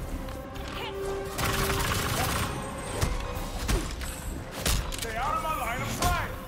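Gunfire in the video game Gotham Knights, scattered shots and crashing hits over a noisy game mix, with bursts near the start and several sharp reports toward the end.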